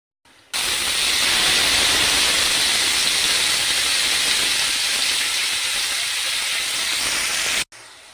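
Spinach paste hits hot oil tempered with black cumin and dried red chilli, bursting into a loud, steady hiss that holds for about seven seconds before cutting off sharply.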